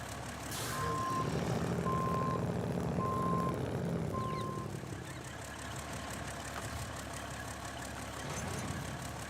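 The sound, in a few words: truck reversing beeps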